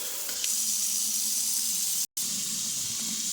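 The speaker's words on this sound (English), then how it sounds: "Then we'll run some water." Cold water streams from a faucet sprayer in a newly built home with a steady, even hiss that runs without pause apart from a split-second cutout near the end.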